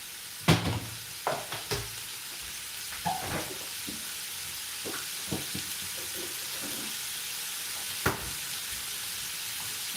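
Bacon sizzles softly in a hot pan, a steady faint hiss punctuated by sharp clatters and stirring knocks, with occasional louder pops of utensil contact.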